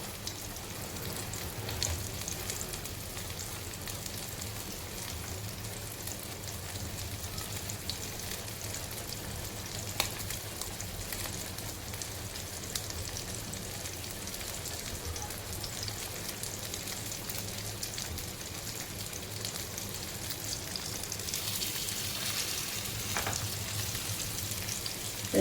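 Two whole pomfret fish coated in semolina and green masala shallow-frying in a small pan, a steady crackling sizzle like light rain that swells slightly near the end, with no voices.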